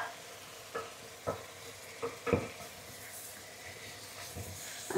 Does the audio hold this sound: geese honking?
no